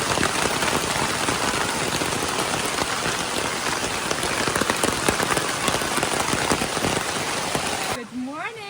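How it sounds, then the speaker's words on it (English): Heavy rain pours down in a mountain rainforest campsite, a dense loud continuous hiss of drops pattering on surfaces, cutting off abruptly near the end to a brief quieter moment with a voice. "The rain got stronger, so I'm trying to cover up here the fire. It's pouring."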